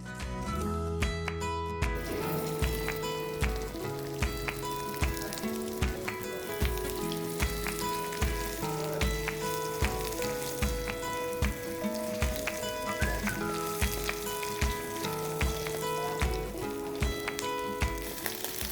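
Mutton meatballs fry in mustard oil in a pan, giving a steady, dense sizzle that crackles continuously at moderate volume beneath prominent background music.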